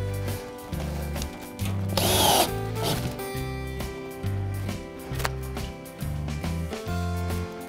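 Power tool driving nails or fasteners into log siding, bursts of whirring motor noise broken by brief pauses and one harsher louder burst, close by with no talking.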